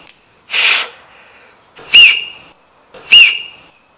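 Three loud, shrill whistle blasts made by blowing across an acorn cap held in a cupped fist, the first breathier and the next two sharp, steady and piercing.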